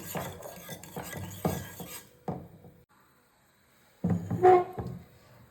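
A spoon stirs milk with custard powder and sugar in a vessel for a fruit custard, giving bursts of scraping and clinking strokes, then a brief pause before a final louder round of stirring close by.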